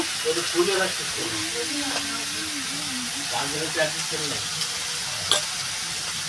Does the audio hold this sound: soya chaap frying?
yes